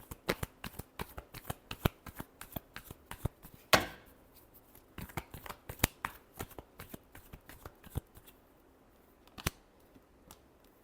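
Tarot cards are shuffled by hand in quick, crisp bursts of riffling clicks and soft slaps, quiet and close, with one sharper snap partway through.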